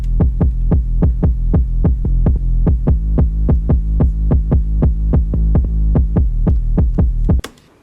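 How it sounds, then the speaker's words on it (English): A booming kick drum and side-chained bass pulse together in a steady, loud electronic beat, roughly three hits per second with the bass ducking under each kick, cutting off abruptly at the end. "the kick and the bass together with the side chained on sound like this"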